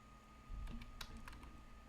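Faint, close computer keyboard typing: a handful of soft key clicks over a steady low background hum, with no talking.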